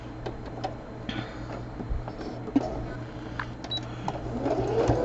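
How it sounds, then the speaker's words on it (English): A sewing machine stitching pieces of quilt fabric together for a crumb quilt square, a steady low mechanical hum with light ticking and clicking close by. "I'm going to go ahead and stitch those two together."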